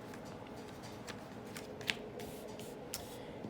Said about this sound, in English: Didn't have to shuffle too hard for that.